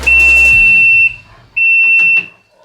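A Yamaha Viking UTV in forward gear makes an awful noise: a piercing, steady high-pitched whine that sounds twice, in a long burst and then a shorter one, over a faint low engine rumble.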